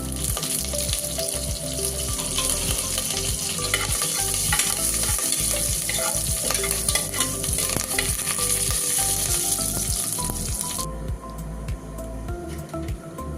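Cut dried red chillies and curry leaves crackle and sizzle loudly in hot oil for a sambar tempering, a dense continuous spitting close by that eases slightly toward the end.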